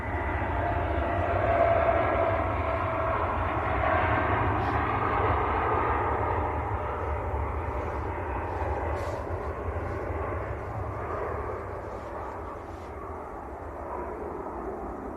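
A TUI airliner bound for Barbados rolls along the taxiway at Manchester Airport, a steady loud jet engine roar with a broad rumble that fades slightly toward the end.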